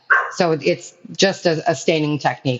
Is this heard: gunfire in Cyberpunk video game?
no